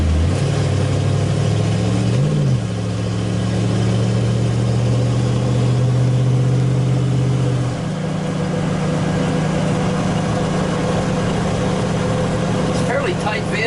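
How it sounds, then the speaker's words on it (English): A 1974 Ford Bronco's engine hums steadily while the truck drives, a loud low drone that shifts pitch partway through as it changes speed, with a person talking over it. "The engine sounds real nice and strong"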